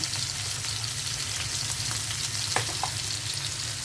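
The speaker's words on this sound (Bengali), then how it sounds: "চিংড়ি মাছটা চিংড়ি মাছটা ভেজে নিলাম" Shrimp frying in a pan with turmeric and salt, a steady close sizzle with occasional crackles and light stirring scrapes, no voices.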